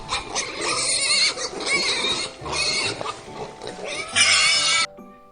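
A pig grunts and oinks repeatedly in bursts for about five seconds, loud and close, with a brief lull before the final squealing burst cuts off abruptly.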